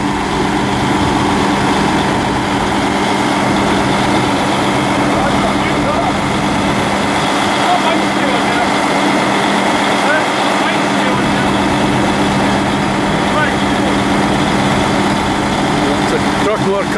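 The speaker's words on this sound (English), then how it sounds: "It's a John Deere 6120R, I think it is, in the background there." A John Deere 6120R tractor engine idles steadily in the background, a continuous low diesel rumble that holds under the louder noise of nearby farm machinery for the whole stretch.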